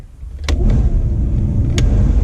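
A car's ventilation blower whooshes steadily at moderate strength, with two sharp clicks partway through.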